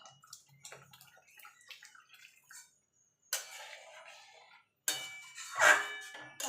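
Hot water is poured into a rohu fish kalia curry in a pan, giving a few separate pours and splashes with a bright sizzling rush near the end, split by short quiet gaps.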